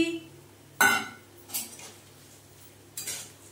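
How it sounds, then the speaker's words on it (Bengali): Fried peanuts tipped into a pan of fried potatoes land with a sharp clattering burst, followed by two softer scrapes and rattles of a utensil against the pan in an otherwise quiet kitchen. "এইবারে আমি এই বাদাম ভাজাগুলোকে অ্যাড করে দিচ্ছি।"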